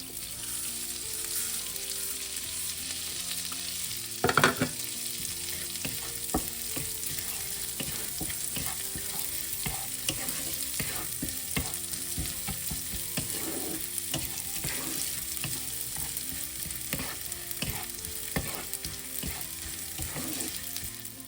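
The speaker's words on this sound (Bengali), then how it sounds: "এবার আমি এই চালটাকেও ভেজে নেব অল্প করে" Rice grains frying in a pan after cashews and raisins, a steady dry sizzle with repeated scraping and stirring clatters throughout, one louder knock near the start, no voices.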